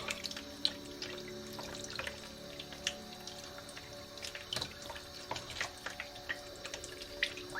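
Dandelion roots being washed in water, a close, continuous trickle of running water with scattered light splashes and drips, fairly quiet and steady.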